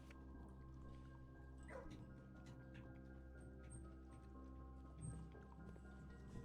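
A puppy in the Blue Prince video game gives a faint, brief yip over a steady low hum of game ambience, with a soft whimpering quality and no other clear barks.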